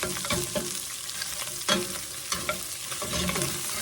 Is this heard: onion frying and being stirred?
yes